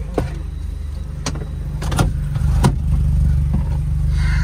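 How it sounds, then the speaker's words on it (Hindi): Petrol automatic Mahindra Thar fitted with an aftermarket exhaust, a deep steady engine rumble while driving, close and loud, with a few sharp clicks and knocks over the drone. "तो भाई इतनी तारीफ कर रहे तो आ जाओ फिर चलाते इस गाड़ी को, जहाज को, थार को"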